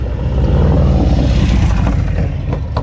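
A 2017 Harley-Davidson Street Glide Special with an S&S 475 cam revs hard, a loud, close, continuous rumbling roar that holds steady throughout, with no talk.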